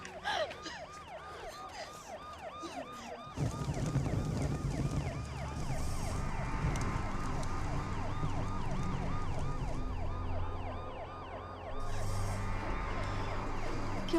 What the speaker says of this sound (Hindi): अबे गाड़ी आगे काहे नहीं बढ़ रहा है? चलाओ बे एम्बुलेंस को।